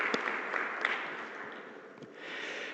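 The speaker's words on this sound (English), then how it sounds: "Let us give our thanks once again to the honorable speakers with a big applause." Applause from a seminar audience at a development finance meeting, a soft continuous patter of many hands clapping at a distance, with a few sharper claps standing out and a slight swell near the end.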